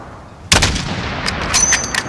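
Gunfire in Call of Duty Modern Warfare, a loud sharp shot with a booming tail and a few quicker follow-up reports, close and alone.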